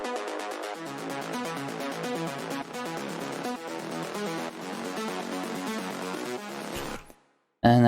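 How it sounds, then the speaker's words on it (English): Arpeggiated synth bassline from an electronic remix, a dense fast run of pulsing notes layered with bright upper tones. It plays loud and continuous, then cuts out briefly before a short burst returns at the end. "bassline, arpeggiated bassline,"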